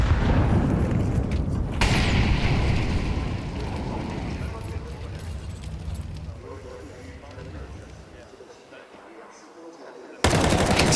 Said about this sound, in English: The triple nades into the window